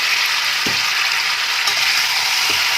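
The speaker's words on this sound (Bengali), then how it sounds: "এখন মাংসটাকে মিডিয়াম ফ্লেমে অন্তত 15 মিনিট কি 20 মিনিট আমি ভালো করে কষে নেব" Mutton with tomato and green chili sizzles in masala, a loud, dense, steady frying hiss broken by a few soft stirring scrapes, with no voices.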